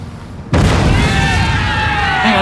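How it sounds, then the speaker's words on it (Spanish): Cannon fire in the strategy video game Napoleon: Total War, a single loud booming blast that cuts in abruptly and rolls on with a long rumbling tail. "el último cañonazo que habéis pegado."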